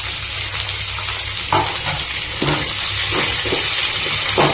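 Green chillies and coriander sautéing in a pan for spicy pepper chicken, a loud, constant frying hiss with a few stirring scrapes scattered through it.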